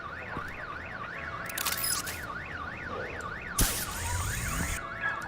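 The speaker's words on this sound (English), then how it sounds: "My bat stunner would set off the car alarm." A car alarm in the Batman The Enemy Within video game wails in a steady, rapid rising-and-falling warble, loud and continuous, with a couple of sharp bangs cutting in.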